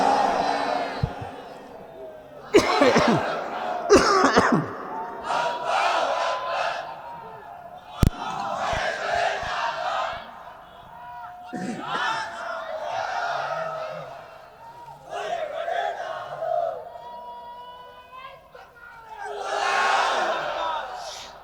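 A large outdoor crowd at a Bangladeshi religious rally answers a takbir call with loud collective chanting, swelling in repeated waves over a mixed roar of voices.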